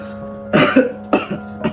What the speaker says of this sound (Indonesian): Hanya batuk biasa.